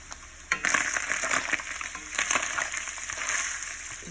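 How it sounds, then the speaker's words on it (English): Loud, crackling sizzle of meat frying in a pan, with bursts of stirring scrapes, close up and continuous. "we know the meat is now frying instead of boiling because we can hear the sizzle"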